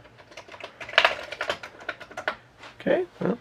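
Keys clatter on an old Commodore computer keyboard in quick, uneven bursts of close, crisp clicks with a few louder strokes.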